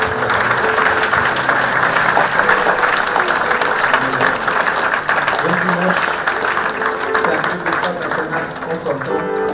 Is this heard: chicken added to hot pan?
no